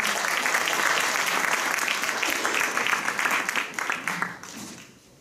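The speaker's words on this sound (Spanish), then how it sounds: "Por favor, un aplauso para el relator." A room full of people at a human rights panel applauds steadily for several seconds, then the clapping thins and fades out.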